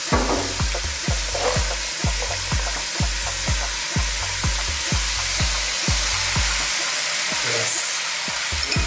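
Chicken chow mein noodles sizzle in a hot pan while a utensil tosses and scrapes them in a quick, regular rhythm, loud and close with no talking.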